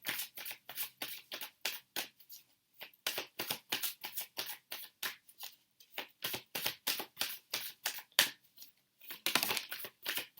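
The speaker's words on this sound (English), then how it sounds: "I'm going to shuffle all of the cards out first" A tarot card deck being shuffled by hand, close and quiet: a rapid run of crisp riffling and flicking bursts in uneven clusters, with short pauses between handfuls and no speech.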